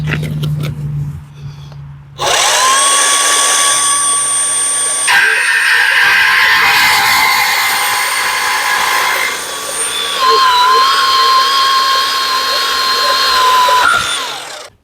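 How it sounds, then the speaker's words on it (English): A battery power drill mounts solar panel brackets on a shipping container at an off-grid homestead, with a long, loud whirring run that changes pitch partway and stops abruptly near the end, preceded by brief handling noise. "Grateful for battery power tools."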